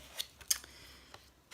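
Pinking scissors cut paper for a handmade invitation card, giving a few quiet, close snips and crisp clicks spaced irregularly over low background hiss.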